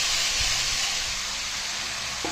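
Marinated chicken dropped into hot oil in a pan with lightly fried onion and tomato, producing a loud, steady, close broadband sizzle that hisses continuously throughout.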